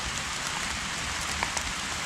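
Rain falls steadily outdoors in Germany during a wildlife photography outing, a dense continuous patter of drops on nearby surfaces with no talking.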